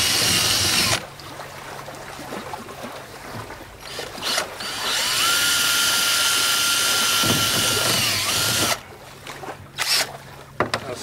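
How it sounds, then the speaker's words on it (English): A power drill bores 9/64 inch holes for X bracing on a boat leaning post, with one long steady whine in the middle flanked by shorter bursts, loud and close. "Now I'm going to drill 9/64" holes at those locations and secure the X bracing."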